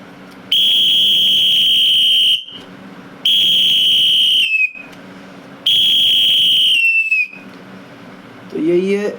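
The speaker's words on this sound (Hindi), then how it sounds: "तो उस समय 3 लंबी सीटी बजेंगी सभी को ध्वज अभिमुख करने के लिए" Three long, loud, shrill whistle blasts sound at a shakha assembly, each lasting over a second with short pauses between, the last one trailing off in pitch, followed by a brief voice.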